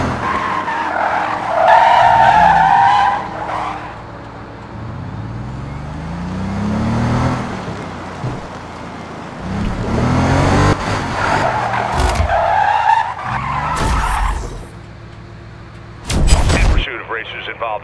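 Street racing cars skid and squeal their tires on an interstate during a police pursuit in a video game, with loud engine roars, sharp bursts and crashes, and radio dispatch voices talking over parts of the action.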